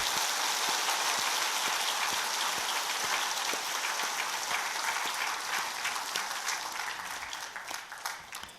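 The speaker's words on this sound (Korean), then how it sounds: "우리 한번 믿음으로 다 함께 영광의 박수를 올려드리도록 하겠습니다" A church congregation claps together in a long, sustained round of applause that sounds like a dense patter, steady and moderately distant, thinning slightly toward the end.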